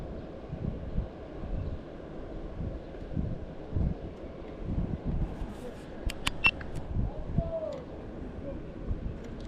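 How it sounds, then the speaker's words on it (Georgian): Strong wind rises during spinning fishing for mullet in Poti, gusting in low, uneven buffeting bursts across the microphone, with faint voices and a few thin high chirps in the background. "ამოვარდა ქარი"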